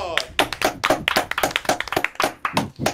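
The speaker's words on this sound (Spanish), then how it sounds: "Un aplauso por Champi." Applause breaks out for a participant on a Spanish esports talk show, a burst of dense hand clapping from a small group, close and lively, with some cheering voices mixed in over about three seconds.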